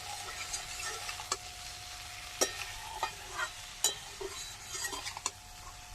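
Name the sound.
stirring fried okra with spices in a pan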